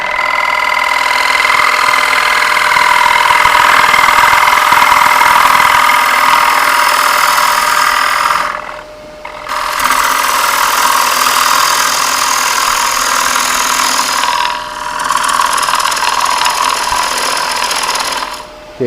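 A wood lathe turns a three-footed bowl while a gouge cuts into it, producing a loud, steady whirring hum that drops out briefly twice as the cut pauses before resuming.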